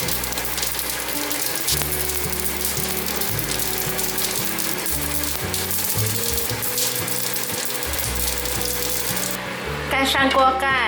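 Small stuffed pancakes made from dumpling wrappers with asparagus beans and carrot fry in oil in a pan, a loud crackling sizzle that continues throughout over a low musical background and sharpens near the end.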